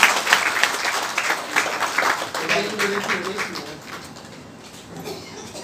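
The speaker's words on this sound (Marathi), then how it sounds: "परत एकदा टाळ्या वाजून स्वागत करा." An audience at a Marathi public event claps to welcome a guest, a loud burst of dense applause that gradually thins and fades, with a few voices murmuring underneath.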